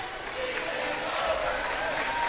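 A home crowd at a high school basketball game between the Centerville Tornadoes and the Irene-Wakonda Eagles roars in steady celebration, a dense cheering wash with a commentator talking over it.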